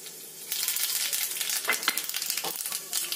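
Mustard seeds, fenugreek and dried red chillies crackle in a spoonful of hot oil for a tamarind pickle tempering, a steady close sizzle with scattered sharp pops and crackles, no talk.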